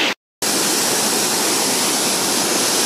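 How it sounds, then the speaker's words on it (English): Rushing rapids of the stream below Wairere Falls, heard from a bridge crossing: a steady, loud, broadband roar of white water close by, briefly cut to silence near the start before resuming unbroken. "Here we've come to the third bridge crossing of the rapids to the Wairere Falls lower part"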